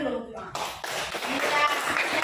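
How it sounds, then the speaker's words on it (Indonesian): Children clapping their hands together in a classroom, a dense burst of claps that starts abruptly after a brief spoken phrase and carries on steadily, close and fairly loud. "Tepuk tangan dulu."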